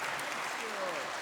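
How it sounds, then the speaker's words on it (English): An audience at the closing of a conference clapping together, a dense, steady wash of applause heard briefly throughout. "give yourself a round of applause"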